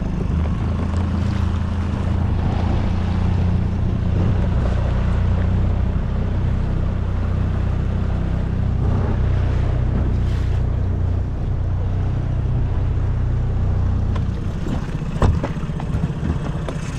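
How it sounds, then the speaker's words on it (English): A low, steady outboard motor drone on a sailboat runs continuously beneath wind buffeting and water noise, with brief louder knocks near the end. "I love that outboard."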